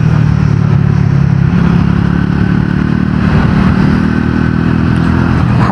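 A Triumph Tracker 400 motorcycle engine drones steadily while riding at speed, a loud, continuous mid-pitched hum mixed with wind rush and no voices.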